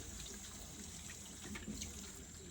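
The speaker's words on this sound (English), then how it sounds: "So I'm just rinsing all that out with cold water." Cold water runs steadily from a tap over synthetic Saran doll hair during a rinse, a soft, continuous splashing hiss at low volume with no voices.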